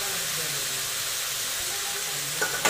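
Sprouted moth beans (matki) fry over onions in a pan with a constant close sizzle. Near the end a couple of sharp clinks from a utensil sound against the pan.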